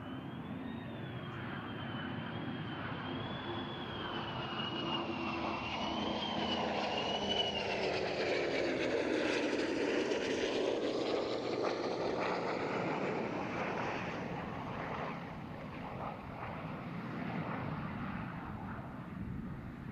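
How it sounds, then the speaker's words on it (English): A three-ship formation of fighter aircraft makes a head-on pass at a naval air station air show, a steady engine roar swelling as the jets close in and sweep overhead with a falling whine, then fading, fairly distant and alone. "as the 3-ship approaches from directly in front of you, the head-on pass will give you an outstanding view of the business end of the preeminent fighters"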